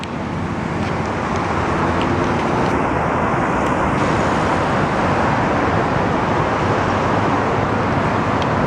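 Steady, loud roar of car traffic passing on a road beside a bike path in Cambridge, a continuous wash of tire and engine noise close by with no talk.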